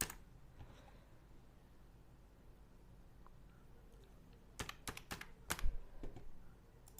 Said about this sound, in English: Type your password and unlock this.